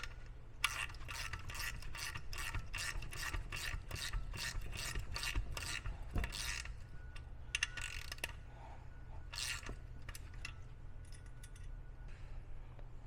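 A ratchet wrench tightens bolts on a Street Glide motorcycle headlight mount, making rapid bursts of close, crisp clicking separated by brief pauses, over a low steady background hum with no talking.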